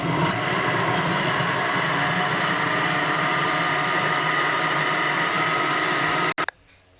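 An electric blender purees leftover bread with eggs for a no-bake dessert, giving a loud, steady, continuous whir for about six seconds before it abruptly switches off.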